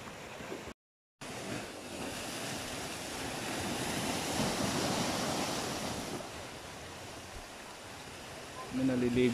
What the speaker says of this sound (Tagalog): Lalaki na ng alon dun. Humahampas na, kumukulay puti na.